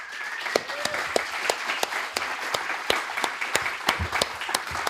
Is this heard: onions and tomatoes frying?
no